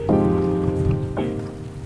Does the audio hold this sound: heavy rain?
yes